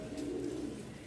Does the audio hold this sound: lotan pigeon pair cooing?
yes